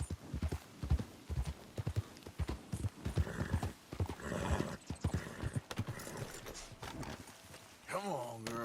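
Horse galloping in the Red Dead Redemption 2 video game, rapid rhythmic hoof clip-clops close by with a whinny near the end, under a voice urging the mare on.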